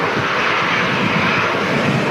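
A Boeing 737-800 jet airliner on the runway at Manchester Airport produces a loud, continuous engine roar with no talking.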